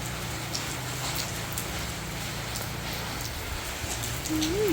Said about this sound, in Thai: พาพี่น้องไปเบิ่งฝนตกเศร้าซะก่อน